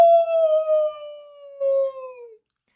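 A single long, mournful howl in a wolf-like voice, loud and close, holding one pitch before sliding gently downward and fading out after about two seconds.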